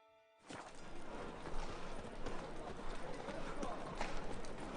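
Roach, a horse in a video game, gallops with a quick, steady clip-clop of hooves that starts suddenly and keeps going at close range. A voice speaks briefly over the hoofbeats.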